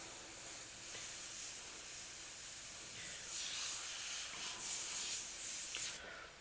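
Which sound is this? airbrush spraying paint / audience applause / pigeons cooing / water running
airbrush spraying paint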